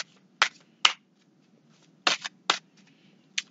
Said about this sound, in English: I've shuffled the cards quite a bit already